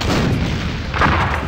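Loud, rumbling cannon fire from The Curse of Monkey Island, a continuous dense boom filling the short moment with no gaps, close and heavy.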